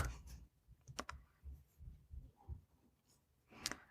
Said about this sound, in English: And then I'm going to type in backup.